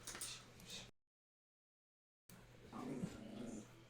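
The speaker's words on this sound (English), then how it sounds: "Do you guys hear my dog? My dog is angry, my friends." Angry dog growling indoors, a low rumbling snarl in two stretches separated by a brief silence, fairly faint and heard without talk.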